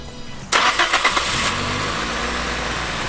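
A Nissan Silvia S14 that has sat parked for two weeks cranks with a few quick starter chugs, then catches and settles into a loud, steady idle close by.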